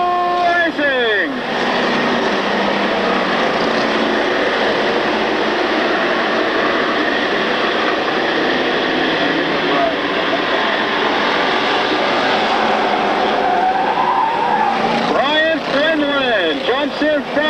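A pack of street stock race cars roars off on a green-flag start at a 1995 oval race, a loud, dense engine drone that swells and holds throughout, with a commentator talking over it.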